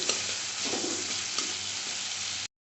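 Tomatoes with salt fry in a pan while being stirred and pressed, giving a steady close sizzle with soft scraping strokes throughout and no talk, ending abruptly.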